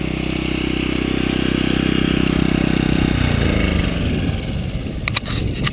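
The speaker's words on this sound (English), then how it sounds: "with this compressor right here, 0 to 100 in 2 minutes on the house, on 120 volts" Harbor Freight 150 psi, 1.5 hp, 6-gallon oilless air compressor running on 120 volts, a loud close mechanical drone that changes character partway through and then rattles irregularly, with a few sharp clicks near the end.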